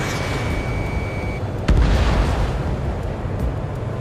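Anti-aircraft fire and explosions in the Ace Combat 7 video game: a steady rumbling barrage, then a sharp close blast with a loud booming tail that rolls on.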